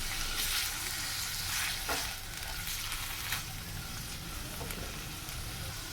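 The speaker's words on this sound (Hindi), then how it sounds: "इसको हमने हल्का गोल्डन करना है, चिकन को भूनना है हमने अच्छी तरह।" Chicken frying in garlic ginger paste for a sandwich filling, a continuous dense close sizzle with occasional stirring scrapes, fairly loud and alone without talk.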